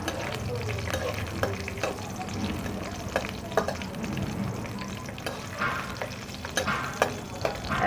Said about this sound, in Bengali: খুব লাল করে ভাজবার দরকার নেই, একটু বাদামি রঙের হয়ে গেলে একে বের করে দেবো।